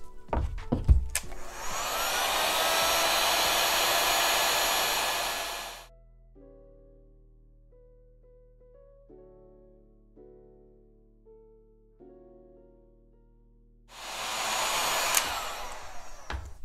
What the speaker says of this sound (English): If we want the light side to look like the dark side, all we have to do is hit it again with a heat gun